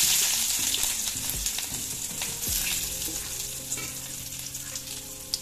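Loud, steady sizzling of chopped garlic frying in hot oil, with occasional stirring scrapes and clinks, close up and without talk.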